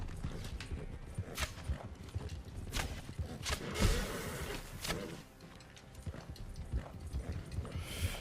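Horse galloping in the Red Dead Online video game: rapid, steady clip-clop hoofbeats up close, with rattling tack and a brief whinny-like burst midway, no talking.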